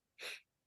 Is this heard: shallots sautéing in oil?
no